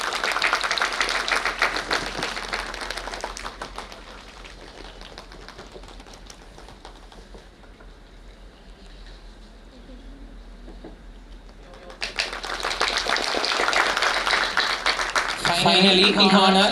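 Applause from an audience at a college techno-cultural fest inauguration ceremony, sustained dense clapping that fades to a quieter murmur midway, then swells back to full loud applause.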